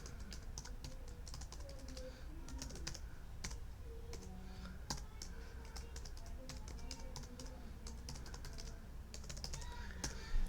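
Typing a username and password on a computer keyboard, quiet steady clatter of keystrokes with irregular rhythm and occasional sharper taps, close but soft over faint room hum.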